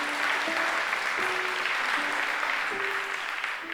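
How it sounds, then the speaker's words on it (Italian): Audience applause for a band at a live event, a steady wash of clapping throughout with faint sustained tones from the stage. "Fate un applauso grandissimo anche a loro."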